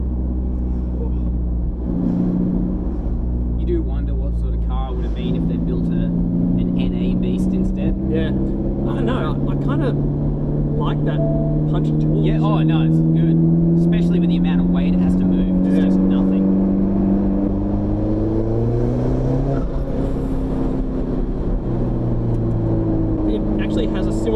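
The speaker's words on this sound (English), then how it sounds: "You can hear, you can hear it spooling at reasonably low throttle yeah." An Alfa Romeo 4C's 1.7 turbo engine spools at fairly low throttle while driving, a loud, steady cabin drone whose pitch rises and falls, with voices talking over it throughout.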